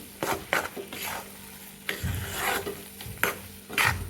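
Maida roasts in ghee on a low flame for barfi while a spoon stirs it, giving repeated close scraping strokes at an uneven pace over a soft sizzle.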